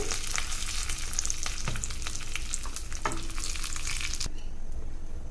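Dried red chillies, curry leaves and asafoetida crackle and sizzle in hot tempering oil for a snake gourd kootu, a busy frying hiss with sharp pops that cuts off abruptly near the end, no voices.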